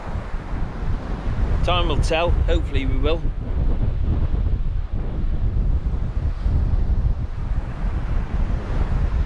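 Strong wind buffets the microphone on Holderness beach while choppy sea surf rolls in constantly beneath it, loud and unbroken, with someone speaking briefly over the noise.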